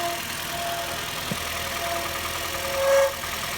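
A 2007 Honda Fit engine idles after a cold start with a steady, close mechanical drone, a faint whine rising briefly near the end.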